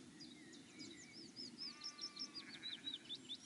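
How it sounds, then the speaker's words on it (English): Sheep bleat faintly in the distance on open hills near Hay Bluff on a calm, clear morning, while brighter birdsong chirps repeat over a soft steady background. "we've got the sound of the hills, which is at the present moment mainly sheep"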